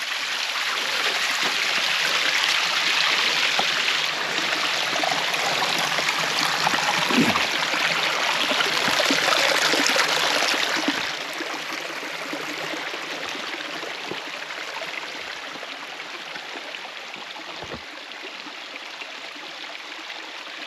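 Water flows out of a hose through a funnel outdoors, a steady hissing gush that continues close by and softens slightly partway through, with occasional light knocks and no speech.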